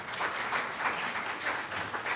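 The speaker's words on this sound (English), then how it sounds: "I would like you to give them a big round of applause." A conference audience applauds panelists at the close of a session, a steady, dense wash of many hands clapping with no voices, sustained at an even level throughout.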